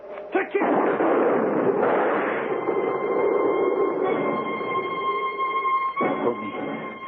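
Gunfire effect in an old-time radio mystery drama, a loud, close burst of rough, rumbling shots that runs on for several seconds with a mechanical roar, heard with no talking over it.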